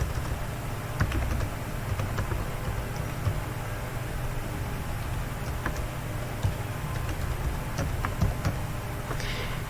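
Keys tapped on a computer keyboard while an email address is entered into an online registration form, a steady run of light clicks over a constant low hum of background noise.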